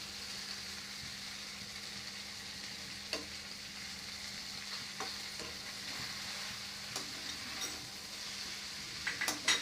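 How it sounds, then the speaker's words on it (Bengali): Noodles and spices are stirred in a frying pan over a soft, even sizzle, with scattered spatula scrapes and clinks that bunch together near the end; no talking. "এখন আমি সবগুলো একসাথে নেড়ে নিচ্ছি"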